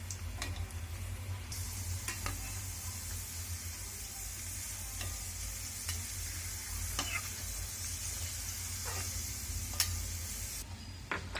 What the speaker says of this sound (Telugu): ఆయిల్లోనే కిస్మిస్ని కూడా ఫ్రై చేసుకోవాలి